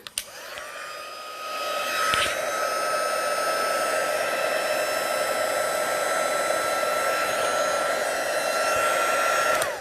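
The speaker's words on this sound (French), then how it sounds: "on va prendre notre pistolet chauffant. Donc, ça va faire un petit peu de bruit." A heat gun used for heat embossing powder on a card blows a steady, loud whooshing roar that starts after a short click and runs continuously for about ten seconds, close up and without talking.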